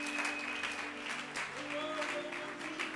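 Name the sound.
congregation applauding acclaiming Jesus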